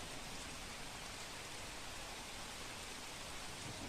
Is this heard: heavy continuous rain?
yes